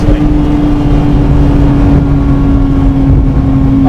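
A Porsche 911 Speedster in Carmine Red, its engine droning loudly with a steady low tone that reverberates as if inside an enclosed space, holding at an even level throughout.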